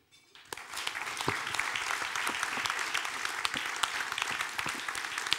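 A crowd at a press freedom awards ceremony in Lyon breaks into sustained applause, a dense wash of clapping that starts abruptly and holds steady throughout.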